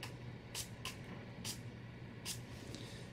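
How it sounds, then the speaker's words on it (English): Short bursts of makeup setting spray misted onto a brush, three or four quick hissy spritzes at close range over a faint steady background hum, with no talking. "So I'm just gonna take some of this setting spray"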